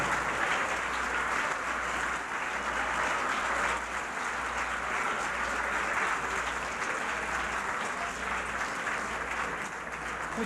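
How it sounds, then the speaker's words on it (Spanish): A standing audience at a school lecture gives a loud, sustained round of applause, dense and even clapping lasting about ten seconds with a faint crowd murmur underneath, slightly distant in a large hall. "Y vamos a brindarles un fuerte aplauso."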